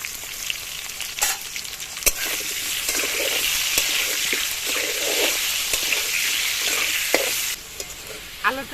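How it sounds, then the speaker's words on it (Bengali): Salted potato pieces fry in hot oil with a steady, bright sizzle. Occasional sharp clinks of stirring break through, and no one speaks. "আলুটা ভাজা হয়ে গেছে,"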